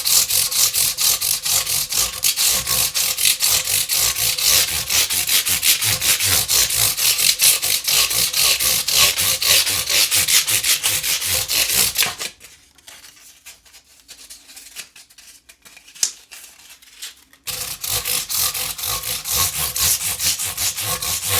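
Frets on a Gibson Les Paul Studio guitar are rubbed with 320 grit sandpaper in quick, rhythmic back-and-forth strokes, close and steady. The strokes pause for about five seconds midway, leaving only faint scraping, then resume.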